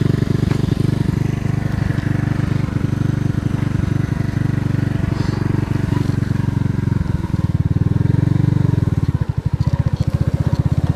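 Alpha enduro moped engine labouring out of a swamp, a loud close buzzing drone that holds steady, then sputters and pulses unevenly near the end.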